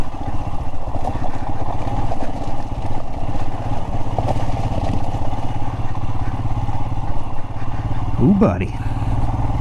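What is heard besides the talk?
Royal Enfield Himalayan motorcycle riding over basalt rock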